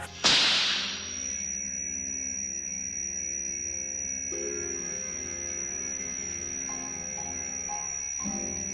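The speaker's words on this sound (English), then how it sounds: "A whip crack set it off, and then you had this steely sound." A film sound effect from the Bond movie Goldfinger: a sharp whip crack bursts out loud at the start, then a thin, steely metallic ringing tone holds steady and sustained for several seconds with no voices.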